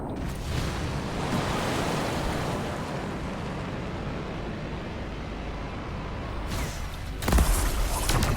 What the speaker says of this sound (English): Look at the waterfalls. They're going backwards.